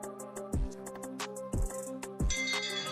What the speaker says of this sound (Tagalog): that is the bell for round number 1